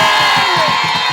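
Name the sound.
church congregation applauding and cheering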